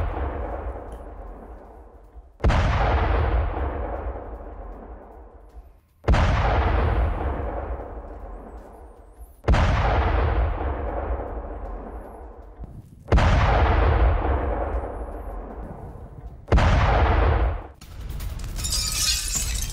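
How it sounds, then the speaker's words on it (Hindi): Explosions from a Ukrainian drone attack on a Russian command centre: five or six heavy, booming blasts at intervals of a few seconds, each loud and sudden, then rumbling away before the next, with no talk. "यूक्रेन के हमले में रूसी कमांड सेंटर"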